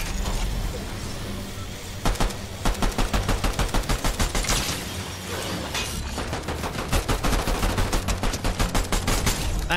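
Rapid pistol fire in the video game Fortnite, a dense run of sharp, evenly spaced shots crackling through the second half over a steady background of game sound.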